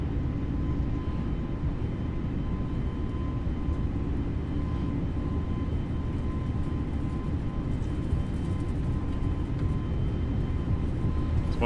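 Airbus A320neo engines spool up to takeoff thrust on the runway, a steady, loud, broadband roar that holds constant throughout with no break or lull.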